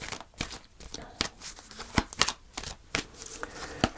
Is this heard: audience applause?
no